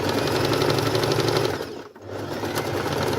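A sewing machine stitches a quilted vest, running steadily and loudly with a fast mechanical hum, pausing briefly near the middle before starting up again.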